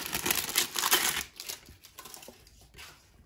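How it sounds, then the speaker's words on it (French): Paper wrapping is torn and crinkled off a crystal-clear phone case, with loud rustling and ripping at first that thins into quieter scattered crinkles and small handling noises. "Je vais enlever le papier pour déballer la coque"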